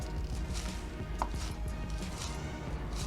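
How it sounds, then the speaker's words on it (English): Green onions are sliced with a knife on a cutting board, a quick run of soft, close chopping taps over a low room hum, with no talking. "So now we're just going to cut through. Green onions."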